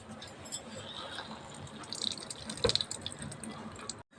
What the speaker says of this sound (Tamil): இந்த மாதிரி எல்லா தண்ணியும் புழிஞ்சு எடுத்துடலாம்.